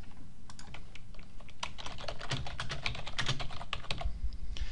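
Text being typed on a computer keyboard in design software, a steady close run of light plastic key taps at an even pace, alone with no talk.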